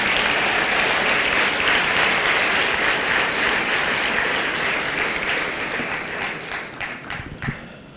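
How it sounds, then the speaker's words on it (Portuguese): A church congregation applauds in a loud, dense, sustained burst of many hands clapping that slowly thins toward the end, leaving a few scattered separate claps. "Quem crê nisso, aplauda o Senhor Jesus."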